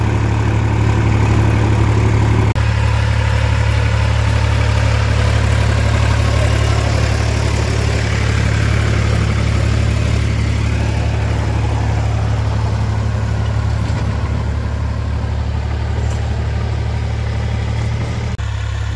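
A Massey Ferguson 245 DI tractor runs steadily with a Maschio rotavator attached, giving a loud, continuous diesel drone with a strong low hum that holds level throughout, with no talking.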